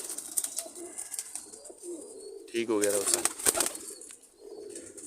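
Pigeons coo in a loft in Multan, a low burbling call rising clearly for a moment amid wing flutters, with someone speaking over them.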